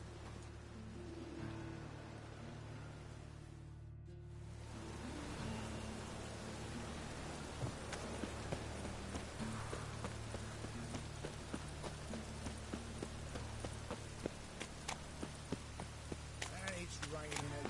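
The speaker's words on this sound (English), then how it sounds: "It's raining again." Steady hiss of rain pouring over a scene in the video game The Witcher 3: Wild Hunt, with scattered tapping and clopping sounds and occasional voices mixed in.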